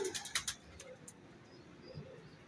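Kasuri pigeons give soft, close coos at low volume, with a few short fluttering clicks and faint background noise between calls.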